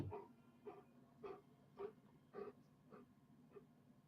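A German Shepherd puppy whimpering softly in short breathy whines, about one every half second, faint and close.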